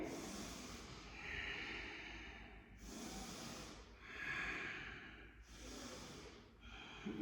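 Slow, deep breaths during a yoga pose, long airy inhales and exhales through the throat, close and soft, alternating in a relaxed rhythm with no talk.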